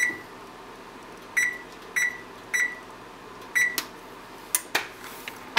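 A kitchen oven's control panel beeps as it is switched on and set to 350, a series of short, clear electronic beeps spaced about half a second apart, followed by a few button clicks in a quiet room.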